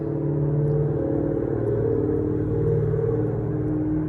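Steady traffic roar from a busy road behind a garden, a continuous low rumble and whir of passing cars that stays loud and even throughout, with no voices.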